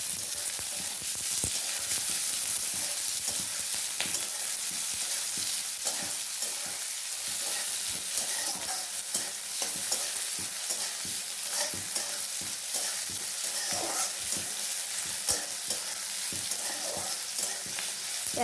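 Chopped onion frying in a pan, stirred now and then: a continuous close sizzle broken by frequent scraping, clattering stirs that keep a loose, irregular rhythm, with no voices.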